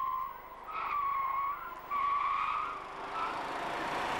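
An Audi A6's tires squeal repeatedly through a slalom of sharp turns, with throttle applied in each turn, the screeching rising and falling in waves as the car weaves back and forth.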